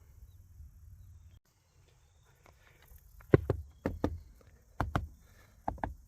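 A car door trim panel is snapped back onto the door after sound deadening is applied, giving several sharp, close clicks and knocks in quick pairs after a quiet stretch.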